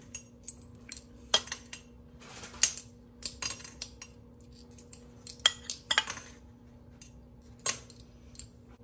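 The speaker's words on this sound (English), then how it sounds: "I'm just going to give this a stir and let this continue cooking down" A spoon scrapes and clinks against a pot of simmering tomato sauce in a fairly quiet kitchen, with a steady low hum underneath and scattered sharp taps at irregular intervals.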